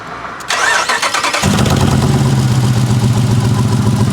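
A Trackhawk's Hellcat engine, in an accident-damaged car, cranks with a rapid whirring starter, then catches and settles into a loud, steady idle rumble close by.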